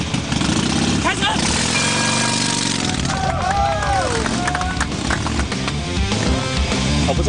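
A motorcycle engine revs at a CRC club riding event, the throttle blipped up and down in quick pitch sweeps amid a noisy outdoor crowd, with voices talking over it.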